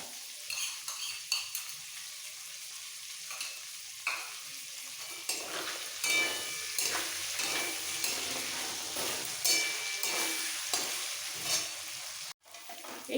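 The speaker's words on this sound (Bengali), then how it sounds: "সবজিগুলো বাটা মশলার সাথে একটু কষিয়ে নেব" Mixed vegetables for sukto sautéing with ground ginger and radhuni paste in a pan, a soft steady sizzle broken by repeated spatula scrapes and taps, fairly quiet and close, with no speech.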